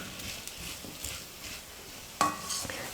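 Chilli parotta being stirred and tossed in a pan over low flame, with soft sizzling under scattered scraping and a sharp clink of a spatula against the pan near the end.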